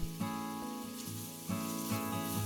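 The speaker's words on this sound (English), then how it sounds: "Once the oil is hot, add the onions and let them sweat." Onions sweat in hot olive oil in a pot, giving a soft, steady sizzle that stays fairly quiet under music for a couple of seconds.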